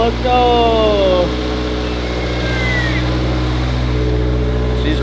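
An abandoned turbocharged Scion FR-S idles steadily just after its first start, a low, even engine drone heard close by while excited voices talk over it.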